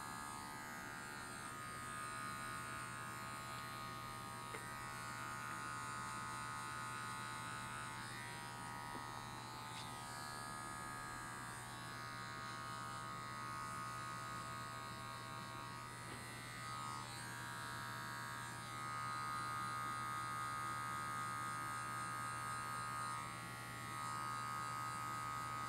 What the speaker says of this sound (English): this last little bit line was done with these same clippers